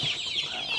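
Ornamental chickens clucking at Kalamuri Chicken Farm in Kodungallur, a soft, continuous run of close clucks and murmuring calls with no talking.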